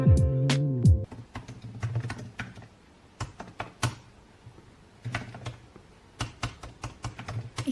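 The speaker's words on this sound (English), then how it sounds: "I seriously didn't realize that I typed that aggressively on the keyboard" Someone types forcefully on a computer keyboard at a desk, with a rapid, uneven series of sharp key clicks and clacks after a brief opening tone, close and fairly loud.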